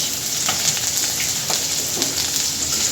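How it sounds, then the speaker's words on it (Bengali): Onion and green chillies fry in oil for a vegetarian curry, with a dense continuous sizzle close by and a few sharp scraping stir strokes cutting through, no one speaking. "পেঁয়াজের আর কাঁচামরিচটা ভালো করে ভেজে নেব"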